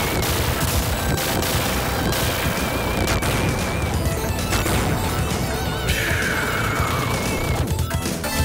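Constant gunfire and explosions in the Sega shooter Gunstar Heroes, dense rapid blasts and crashes layered with chiptune music and laser-like whines, loud and continuous throughout with no pauses.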